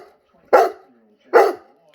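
A dog barks twice at home, close and sharp, with a short pause between the two barks and quiet in between.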